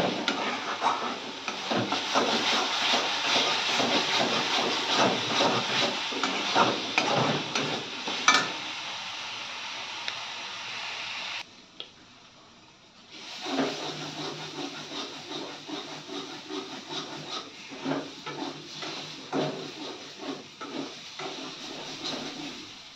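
Small fish curry sizzling and frying in a pan, a steady close hiss with scraping and stirring, briefly dropping away midway before the sizzle resumes.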